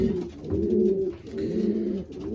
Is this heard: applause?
no